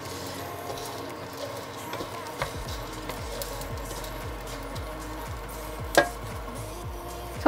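Edible gum (gond) frying and puffing in hot ghee, a soft continuous sizzle and crackle with a few sharper clinks from a spoon, fairly close and steady.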